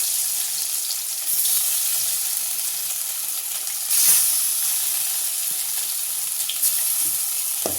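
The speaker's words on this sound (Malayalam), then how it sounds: "എണ്ണ ചൂടായി. ഇപ്പം മീനിടാൻ പോകണം." Fish fries in hot oil in a pan, a loud, steady, close hiss and crackle with a brief surge partway through and no voices.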